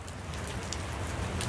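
Steady rain falls on a golf course as a dense, even hiss of drops with no break, fairly quiet, with no voices.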